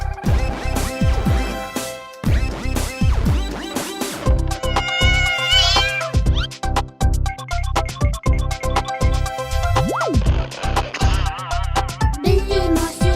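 Cartoon cat meowing repeatedly amid a lively Hindi children's song, several clear mews popping out over music and sung vocals.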